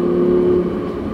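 Audi R8 V10 engine on a race track, a loud steady high-revving drone near red line that eases off slightly after about half a second, heard up close from inside the car.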